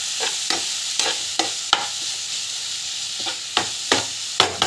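A spoon scrapes and stirs mango rice thokku in a pan in repeated, irregular strokes, close and clear over a soft frying sizzle, with no talking.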